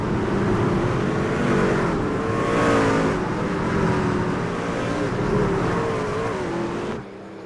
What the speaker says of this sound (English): Here we go, pace car rolling off.